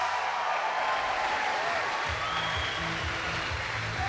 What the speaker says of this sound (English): Very loud crowd here for Sean